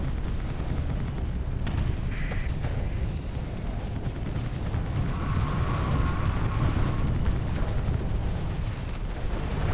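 Ship guns firing in the Starsector space combat game, a dense, continuous rumble of booming shots and explosions with no clear pauses, steady and loud throughout.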